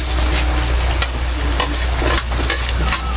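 Onion sautéing in a pan, a steady close sizzle of frying with repeated scraping stir strokes and a low constant hum underneath, no talking.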